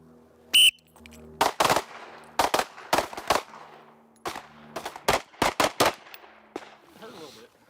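Handguns firing at an outdoor shooting range during a proficiency qualification, a dozen or so sharp, loud reports in irregular bursts and singles, close by, with a brief whistle near the start and faint background voices.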